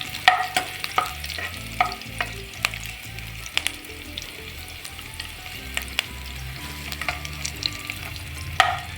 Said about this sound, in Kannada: ಬೆಳ್ಳುಳ್ಳಿ ಹಾಕೊಳ್ತಾ ಇದ್ದೀನಿ, ಜೊತೆಗೆ ಕರಿಬೇವು ಕೂಡ ಹಾಕೊಳ್ತಾ ಇದ್ದೀನಿ. ಮೀಡಿಯಂ ಫ್ಲೇಮಲ್ಲಿ ಇಟ್ಕೊಂಡೆ ಫ್ರೈ ಮಾಡ್ಕೊಳ್ಳಿ